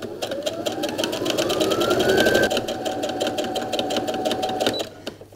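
A sewing machine stitching fabric for a chimney stocking, its steady rapid needle clatter running close and loud, with a rising motor whine early on, slowing and stopping near the end.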